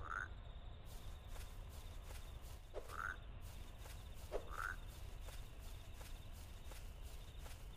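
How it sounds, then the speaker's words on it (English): Frogs croak in the game Decont, a few distinct croaks spaced a second or two apart over a faint ambient bed, with light footstep-like thuds. "Now there's like 1 million frogs."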